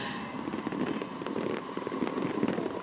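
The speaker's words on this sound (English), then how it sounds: "Drama building, the fireworks going off" Fireworks bursting steadily over the crowd noise of a pro softball game, a dense rolling crackle of pops and bangs that carries on without a break across the whole stretch.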